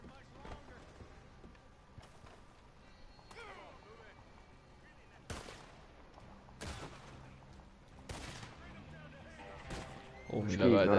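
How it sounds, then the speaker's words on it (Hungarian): Gunfire in a Wild West video game, several sharp distant-sounding shots scattered over the stretch among game ambience, with a louder burst of noise near the end. "Mi lövöldözés megy itt."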